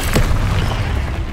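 A Confringo explosive spell blast in Hogwarts Legacy lands as one loud, booming burst with a sharp onset, followed by a dense rumbling tail that holds for over a second.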